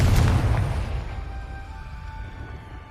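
A Confringo blasting spell explodes in Hogwarts Legacy: one close, heavy boom at the start that rolls off into a long, fading rumble with faint lingering tones.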